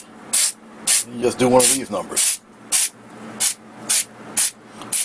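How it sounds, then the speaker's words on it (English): A stone-texture spray paint can fires short, loud hissing bursts in a regular rhythm, about eight sharp sprays, with a person talking briefly partway through. "Pretty powerful spray."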